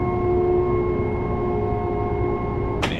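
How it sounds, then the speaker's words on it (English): Brakes on a commuter train in Train Sim World 4 on the Harlem Line out of NYC Grand Central, a steady tonal whine with several held pitches over low rumble, ending in a sharp hissing release near the end. "The brakes on this train are pretty darn good."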